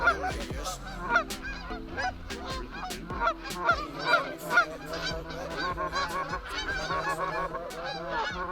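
A flock of geese honking continuously during an early-season goose hunt in Wisconsin, many overlapping calls at moderate distance, dense and steady throughout.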